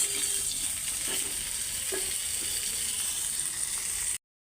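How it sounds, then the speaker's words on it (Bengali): Egg and potato fry in a pan with a steady, moderate sizzle and occasional stirring clinks, then the sound cuts off abruptly near the end. "আর এখানে ডিম আর আলুটা একটু ভাইজা নিতেছি"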